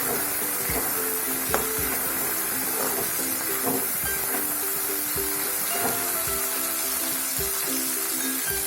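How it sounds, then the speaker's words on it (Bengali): Chopped tomatoes fry in egg curry masala with a steady close hiss and sizzle and faint scattered ticks and clinks, no voice. "টমেটো কুচিগুলো দিয়ে দিলাম।"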